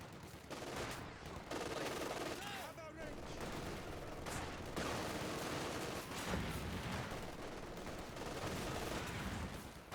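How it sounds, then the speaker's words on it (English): MG42 machine gun in Company of Heroes 2, sustained rattling bursts under a continuous battle din with other scattered shots, moderately loud throughout. "MG42 firing away."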